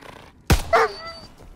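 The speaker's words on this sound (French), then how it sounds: "Non, c'est pas des loups, c'est un chien" A single loud dog bark in the World War II shooter Call of Duty WW2, a sharp burst followed by a second shorter yelp-like cry, then quiet game ambience.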